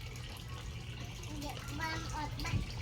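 Water runs steadily from a tap in the background while a two-year-old child washing dishes and an adult talk quietly nearby.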